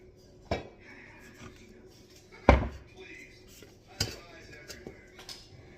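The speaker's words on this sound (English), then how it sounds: "And then I place this in my Dutch oven." A metal pie pan holding sourdough lowered into a hot Dutch oven gives a few sharp metallic clanks and knocks spaced over several seconds, loudest in the middle, with quiet kitchen room noise between.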